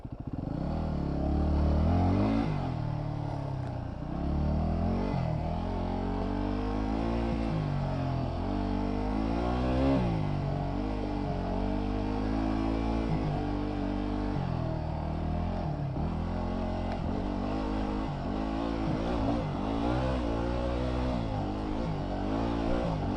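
A heavy motorcycle engine revs and labours close by, a loud throbbing drone with repeated rises and dips in pitch, plus occasional clatter and scraping, continuous throughout with no talking.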